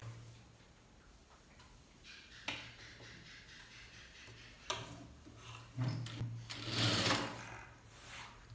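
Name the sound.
sewing machine stitching lining on a blouse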